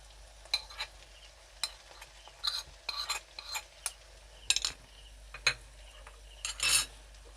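A utensil scrapes and stirs tomato with turmeric, chili, coriander and cumin powders in a frying pan, making irregular clinks and scrapes over a soft, steady sizzle.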